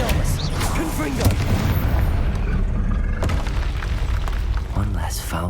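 A Confringo fire spell blasts in Hogwarts Legacy combat, a loud, booming explosive burst over dense battle noise, with a voice speaking over the clash.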